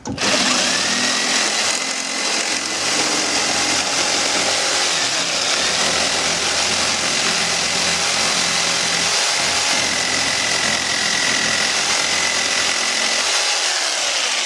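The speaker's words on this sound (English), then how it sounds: "we're going to take the jigsaw now, and we're just going to cut right along this line, very slowly" A jigsaw slowly cuts boat seat wood along a marked line. The buzzing saw noise is loud and continuous, holding steady throughout with no talking.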